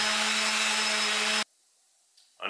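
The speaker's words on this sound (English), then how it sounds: "getting after it with the sander. I am using those 3M extract sanding discs" A power sander fitted with 3M sanding discs works a workbench top with a steady, loud whirring drone, then switches off abruptly into quiet, with a faint clatter at the end.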